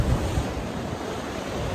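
Ocean surf washing steadily beside a seaside walkway in Puerto Escondido, a continuous broadband roar with heavy wind buffeting the microphone throughout, no voices.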